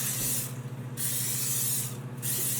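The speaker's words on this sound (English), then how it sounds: "It's a nice little spray." Cooking spray is aimed at burger patties in three short hissing bursts, the middle one longest, close and clear with no talk.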